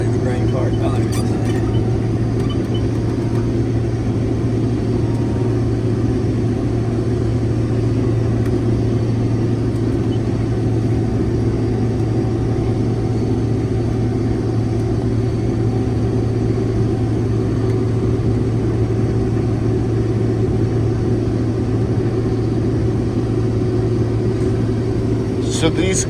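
Case IH 2166 combine harvesting wheat with a stripper header in Kentucky, its engine giving a steady, loud low rumble and drone that holds without a break throughout, and a person talks over it.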